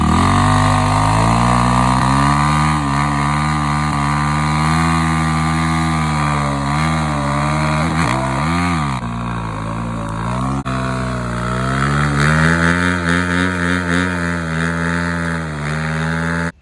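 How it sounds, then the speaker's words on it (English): A dirt bike revs hard through a burnout, its engine loud and close with a steady rising and falling whine that holds for the whole stretch. "we did a burnout and called it a day"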